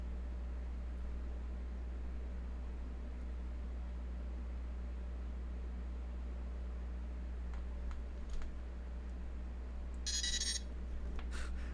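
A steady electrical hum runs throughout, broken near the end by a single short, bright electronic beep from a battlebot robot controller.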